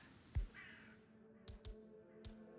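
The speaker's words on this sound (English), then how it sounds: "Damn birds!" Crows caw a few times in the game Hitman 3, short harsh calls spread out in a quiet outdoor scene with a sharp thump near the start.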